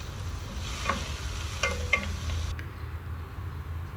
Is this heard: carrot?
yes